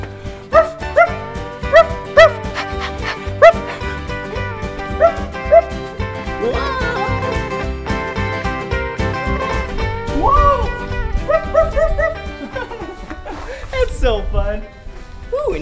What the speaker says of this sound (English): this is where cow dogs stay.